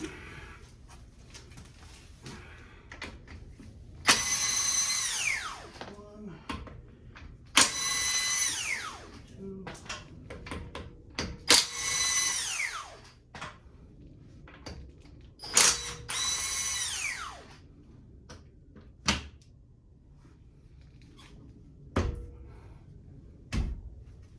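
An electric impact gun rattles in several short, loud bursts, spinning lug nuts off a 2009 BMW 328xi, separated by quieter pauses with clinks of tools and parts.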